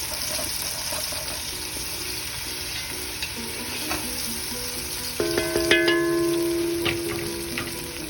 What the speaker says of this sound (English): the last minute of the sauteing, we just added a tablespoon of garlic